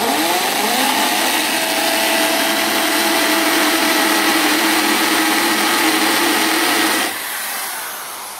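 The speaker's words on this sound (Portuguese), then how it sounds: "Marquei aqui dois furos nesse lado de cá e vou fazer esses dois furos" Power drill boring holes, with a loud, steady, high-pitched whir that holds for about seven seconds and then drops off sharply as the tool winds down. It is close by and no one talks over it.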